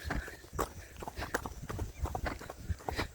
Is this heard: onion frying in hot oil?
no